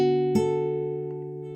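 A single fingerpicked guitar chord from a song, with wide stretchy fingering, sounds once and rings out, sustaining and slowly fading, heard alone and close.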